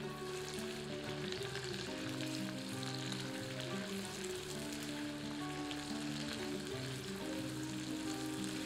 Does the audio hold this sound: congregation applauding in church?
no